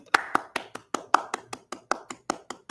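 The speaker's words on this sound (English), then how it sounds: "claps for that" Roughly a dozen sharp hand claps at a steady, fairly quick rhythm, close and clear, with no voices over them.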